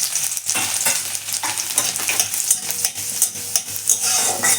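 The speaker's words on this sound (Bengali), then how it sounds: "রসুনটা দিয়ে দিলাম" Chopped garlic and nigella seeds fry in oil at the start of a Bengali radish-greens stir-fry. A steady, bright sizzle fills the whole stretch, with light stirring scrapes and no voices.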